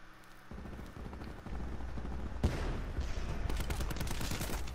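Rapid bursts of Swordfish burst-rifle fire in Black Ops 4, dense crackling volleys rolling over a steady low rumble of game noise, growing louder and busier partway through.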